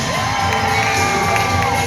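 A crowd cheers and whoops at a horse event with a person on stage, loud, dense and continuous, with children's high shouts mixed into the roar.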